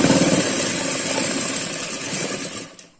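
A sewing machine stitching a suit runs with a steady, close mechanical whir that holds evenly, then slows and stops just before the end.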